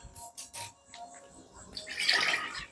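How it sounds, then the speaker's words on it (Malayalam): Milk from a packet splashes into a pot, a short liquid pour that starts with a few light splashes and swells into a louder gushing stream near the end. "പാലൊഴിക്കുവാണേ."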